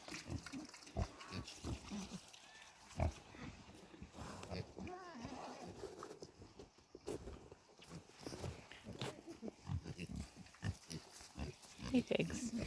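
Pigs grunt and snuffle close by on a snowy farm among piglets, with scattered footsteps and a person briefly speaking over the irregular grunting.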